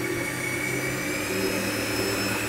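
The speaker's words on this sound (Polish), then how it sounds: "My nic nie robimy, to już miesza mikser." An electric mixer beats Viennese cheesecake batter with orange and sugar, giving a steady loud motor whir with a constant hum and no pauses throughout.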